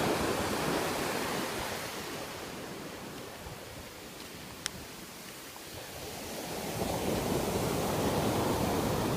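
Ocean surf washes steadily onto sand at Haskell's Beach near Santa Barbara, a continuous broadband roar that dips slightly mid-way and then swells again as another wave rolls in close.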